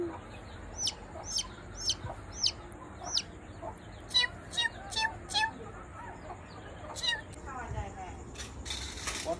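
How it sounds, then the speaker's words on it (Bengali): Baby chickens give repeated high peeping calls nearby in short, scattered bursts, with people talking in the background. "মুরগির বাচ্চা"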